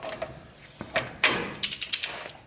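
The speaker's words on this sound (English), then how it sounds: "So what I like to do is go ahead and torque this down." Ratchet socket clicking while a four-wheel drive spindle nut is torqued down on a 1977 GMC truck, a few scattered clicks followed by a quick run of sharp, close ratchet ticks.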